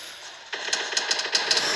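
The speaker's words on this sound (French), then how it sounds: "C'est clairement sur quelqu'un que ça tire." M249 machine gun firing in a video game, a rapid burst of sharp shots at moderate distance, heard alone without talk.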